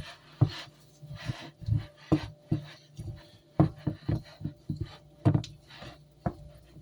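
Cinnamon bun dough with butter and liquids worked by hand, giving a run of irregular soft slaps and thumps, moderately close with a steady pace.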